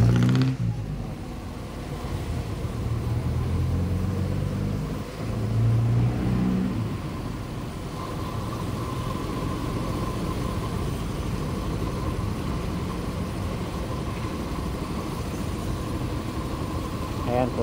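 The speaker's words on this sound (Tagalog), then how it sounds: "Ayan po, may nagmamaneobrang sasakyan." A car engine idles and creeps at low revs while a vehicle maneuvers in heavy midday traffic, a steady mid-level rumble with a brief surge of revving near the start and ongoing street noise around it.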